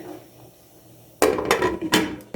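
Metal lid set onto a cooking pan in a home kitchen: a sharp clatter followed by a couple of quick rattling clinks, close and fairly loud after a quiet moment.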